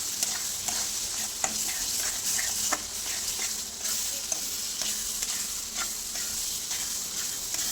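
Masala spices sautéed in a pan on a low gas flame, giving a steady close frying sizzle with repeated light scrapes and stirs throughout, no voices.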